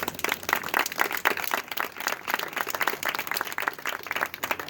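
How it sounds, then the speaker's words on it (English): An audience at a Relay for Life event applauds caregivers with steady, dense clapping, many hands blending into a continuous moderately loud patter. "you truly also deserve a round of applause"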